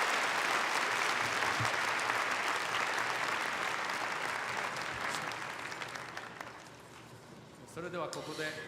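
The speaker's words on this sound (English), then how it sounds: "Please give a big applause once again to Dr." A large ceremony audience gives Kyoto Prize laureate Dr. Witten a full, continuous round of applause that gradually thins out. A voice starts speaking near the end.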